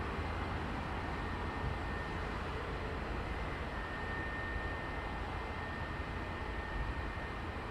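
An American Airlines Boeing 777 arriving on Heathrow runway 27, a steady, broad roar of jet engine noise that stays constant throughout with no voices.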